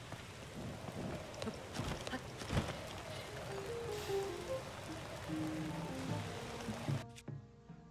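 Steady rain in The Legend of Zelda: Tears of the Kingdom, a dense, hissing downpour with low thunder-like rumbles that runs throughout and cuts off abruptly near the end, with faint talk in the background.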